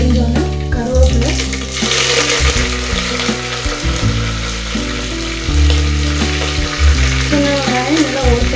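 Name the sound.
mustard seeds and curry leaves frying in oil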